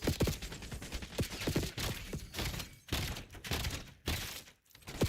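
Rapid bursts of gunfire from a Call of Duty: Black Ops 7 match crackle in dense, overlapping volleys, loud and close, with brief gaps between flurries and no talk.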